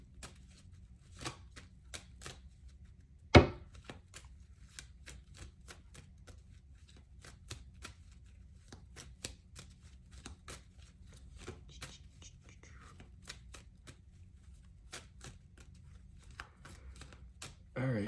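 Quiet riffling and tapping of playing cards being shuffled, with scattered soft clicks and one sharp knock.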